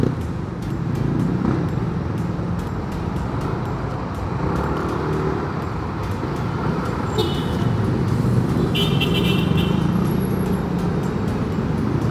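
Congested road traffic with cars, buses and trucks makes a continuous, dense roar, with a few brief higher tones toward the end.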